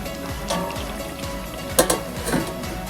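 A lid goes onto a pot of Bengali chicken curry that is cooking on low-medium heat. A brief metallic clank and rattle lands near the middle, over a soft background bubbling.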